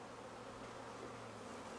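A swarm of honey bees hums as a low, continuous, faint buzz, steady and close, with no voices over it.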